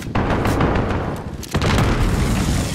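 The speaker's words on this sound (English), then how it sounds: "Don't worry, I got him with my grenade." A grenade blast in Call of Duty Modern Warfare gameplay: a loud, dense boom with a sharp hit near the start and another around the middle, against continuous rumbling battle noise.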